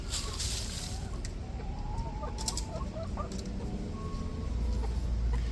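Hens clucking on a small farm, including a broody hen, with soft scattered clucks and calls over constant outdoor rumble and wind-like noise.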